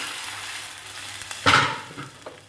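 A soft, steady sizzle of tempering spices frying in oil, with a sharp burst of crackling midway that fades back down. No speech.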